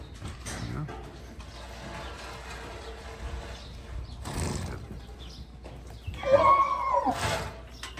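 Walking horses in a paddock, one letting out a clear, loud neigh near the end, with faint hoof movement and a person talking in the background.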